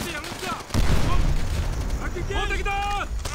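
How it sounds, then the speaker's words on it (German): Grenade explosions and heavy battle noise boom in the WWII shooter Call of Duty: World at War, a loud blast rumbling out amid gunfire while voices speak and shout over it. "ich werfe hier noch Granaten einfach nur"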